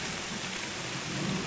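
Rain falls steadily outdoors, a dense even hiss of drops with a faint low rumble beneath, no voices.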